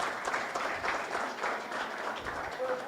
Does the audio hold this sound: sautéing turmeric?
no